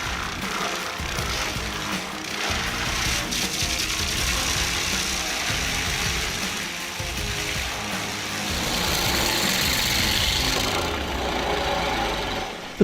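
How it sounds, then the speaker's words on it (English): A Vortex skid steer tree stump grinder runs continuously at full power, a loud, dense engine roar with rough mechanical grinding that swells slightly toward the end. "The power of this Vortex skid steer tree stump grinder makes tree root removal simpler and faster"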